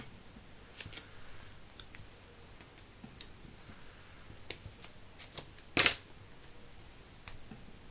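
Scissors snipping paper while making a Halloween card, heard as scattered quiet clicks and sharp snips, one louder cut near the end, close and otherwise quiet with no talk.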